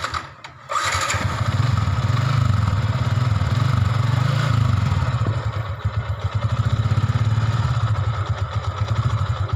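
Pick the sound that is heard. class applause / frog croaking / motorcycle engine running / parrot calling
motorcycle engine running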